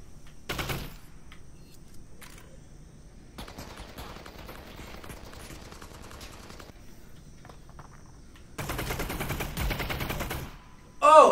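Gunfire in the video game Half-Life: Alyx, with bursts of rapid shots separated by quieter stretches and a sharp blast at the very end, fairly faint overall.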